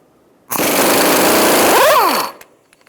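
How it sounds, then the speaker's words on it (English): A 29mm socket on an impact wrench breaks loose the front axle nut on a 2000-2007 Ford Taurus, one loud, close burst of hammering buzz about two seconds long that winds down at the end. "we're going to use a 29mm socket, and we're going to undo our axle nut"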